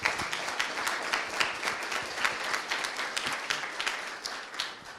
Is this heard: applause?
yes